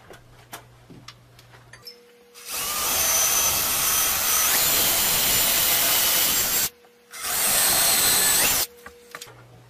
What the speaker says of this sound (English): using a 7/32 bit, I'll drill the pilot holes